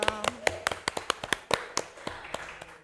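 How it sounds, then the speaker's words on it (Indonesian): Sparse, separate hand claps from a small audience at an esports league final, sounding like a handful of people clapping unevenly, with some overlapping voices and background chatter. "Tepuk tangan dulu dong"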